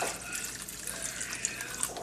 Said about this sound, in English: let's just add the rest of the water